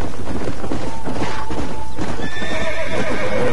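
A horse in the Red Dead video game gallops with loud, rapid hoofbeats close by, then lets out a drawn-out neigh toward the end.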